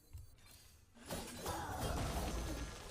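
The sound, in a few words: Shield Shatter card effect in Hearthstone video game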